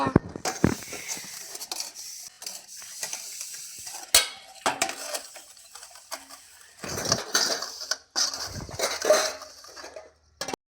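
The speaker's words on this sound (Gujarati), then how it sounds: "વાસણ ધોવા હે" Dishes being washed: intermittent clatter of plates and utensils with splashing, hissing water, close by and uneven in rhythm.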